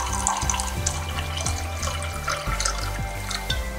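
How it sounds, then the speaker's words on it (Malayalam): Cold water poured into a glass while making a fennel seed squash drink: a steady, continuous pouring stream lasting several seconds, close by, over a low droning tonal background. "ഇനി ഇതിലേക്ക് തണുത്ത വെള്ളം ഒഴിച്ചു"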